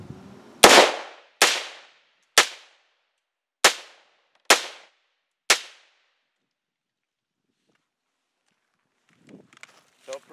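A rifle fitted with a Mission First Tactical Battle Link stock fires six sharp, loud shots at an uneven pace. Silence follows, then a faint voice speaks briefly near the end.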